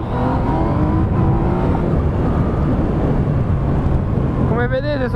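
A 2017/18 Yamaha MT-09 motorcycle engine roars loudly under hard acceleration during a braking and acceleration test, a rising rev sweep near the end, with someone speaking over the engine noise.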